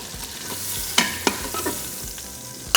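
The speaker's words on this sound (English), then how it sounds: "we're going to allow that side to sear for another 4 minutes" Pork pieces for carnitas in chile verde sear in an Instant Pot, a close crackling sizzle with a few sharp knocks and scrapes of a utensil against the pot.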